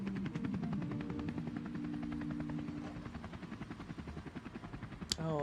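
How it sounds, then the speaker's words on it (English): Helicopter in a Sims game scene, steady rapid rotor chop that pulses evenly throughout at moderate distance, with a brief sharp chirp near the end. "turn it over to Lady Kunterpunt, who's live in the chopper today."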